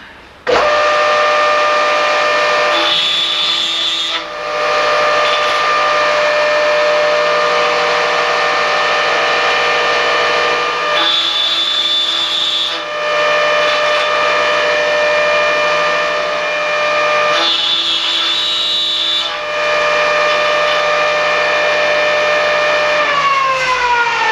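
A woodworking shaper fitted with an Incra jig runs with a loud, steady motor whine, and its tone shifts briefly three times as the cut progresses.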